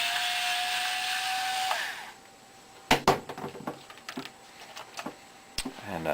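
A screwdriver works a plate loose on a Mars TRC 6000 coin acceptor, giving a string of sharp, close metallic clicks and taps after an opening stretch of steady whirring hum.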